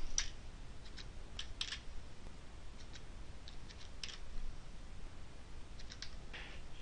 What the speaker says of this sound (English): we'll type in his information.